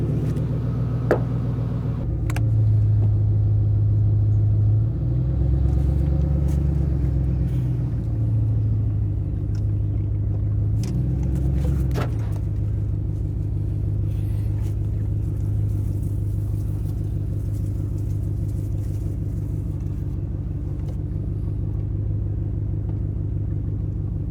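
A car engine idles steadily in a garage, a low, even rumble with brief swells in pitch and a couple of faint ticks and knocks over nearly half a minute.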